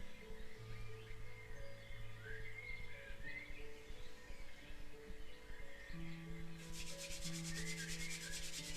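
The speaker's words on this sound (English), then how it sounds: "Rub the hands together" Hands rub together in a steady, faint continuous swishing friction sound beneath quiet background music, with no talking.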